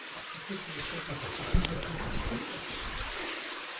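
Water runs and percolates down through an abandoned underground mine in Derbyshire, making a steady, hissing wash of trickling flow throughout, with a faint low voice murmuring underneath.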